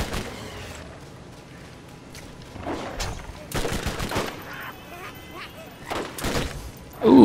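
Gunfire in the video game Borderlands as players shoot skags: repeated bursts of shots in rapid clusters, some sharp and loud, over a quieter game background, with no talk.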